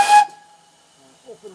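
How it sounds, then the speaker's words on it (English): A steam locomotive whistle gives a short, loud, hissing shriek that cuts off after a fraction of a second, followed by near silence and faint voices. "blow the whistle"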